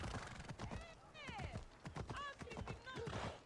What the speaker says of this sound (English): this is clearly not the same horse that I named Phobos back when I was borrowing the horse